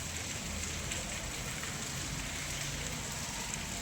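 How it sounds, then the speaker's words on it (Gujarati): Gentle, steady rain falls without wind beneath an overcast sky, a continuous even hiss of drops on surfaces that holds at the same moderate level throughout, with no voices. "ધીમી ધારે વરસાદ ચાલુ છે પવન નથી તોફાન નથી એટલે સારું છે શાંતિપૂર્ણ વરસાદ પડે છે"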